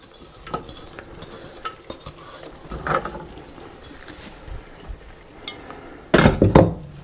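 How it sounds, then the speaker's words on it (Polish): Vegetables for a vegetable salad tumble into a steamer pot with a brief clatter near the end, after quiet kitchen shuffling and a faint clink earlier. "Pierwszą porcję warzyw wrzucę już do gotowania, do garka do gotowania na parze."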